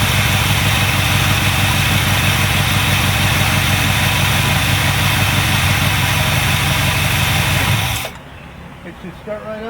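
A small engine running on old ethanol-blended gas idles loud and close with a steady, slightly uneven throb for about eight seconds, then cuts off abruptly, leaving faint clatter behind.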